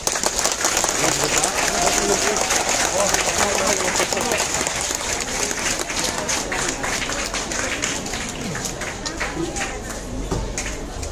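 Audience applause at a school golden jubilee celebration: sustained, dense clapping from a large crowd, loud and even for the whole stretch, tapering only slightly toward the end, with faint voices mixed in.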